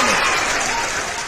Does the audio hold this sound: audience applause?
yes